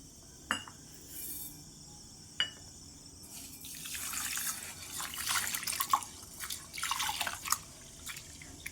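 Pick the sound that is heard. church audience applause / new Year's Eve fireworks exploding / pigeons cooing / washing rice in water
washing rice in water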